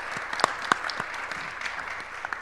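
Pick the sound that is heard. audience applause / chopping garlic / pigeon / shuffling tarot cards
audience applause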